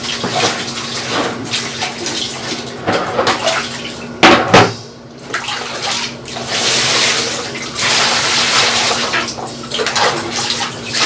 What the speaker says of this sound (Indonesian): Ini tak cuci sama tangan aja.